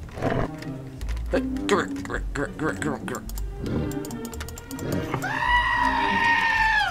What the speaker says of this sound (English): That is a goat scream.